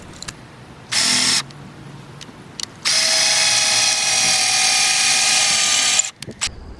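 A drill bores pocket holes through a Kreg jig into a wooden board for a bookshelf. A short, loud burst comes first, then after a pause a longer, steady high whine runs for about three seconds before stopping abruptly.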